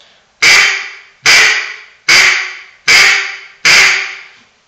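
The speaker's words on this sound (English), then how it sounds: "I'm going to blow it through the call. And I'm just going to say quack 5 times, real steady." A duck call blown by a caller practicing basic quacks, five steady, evenly spaced quacks of the same tone, each sharply cut off, loud and close with silence between.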